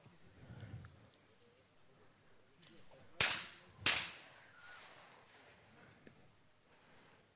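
Two sharp, loud gunshots crack about half a second apart in a shooting championship final, each with a brief ringing tail over a quiet hall murmur.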